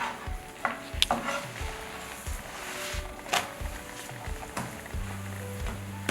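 Flatbread fries in butter on a pan over medium heat, a soft continuous sizzle broken by repeated scraping and tapping of a utensil pressing the dough, close and moderately quiet.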